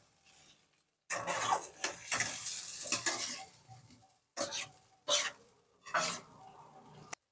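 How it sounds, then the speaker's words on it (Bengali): Kuche fish masala is stirred and sautéed in a pan with a little water, making close scraping and sizzling bursts broken by short pauses between strokes. "এবার নেড়ে সমস্ত আইটেমটাকে কষাতে কষিয়ে নেব সুন্দর করে"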